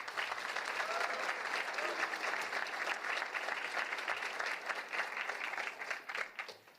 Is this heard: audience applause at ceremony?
yes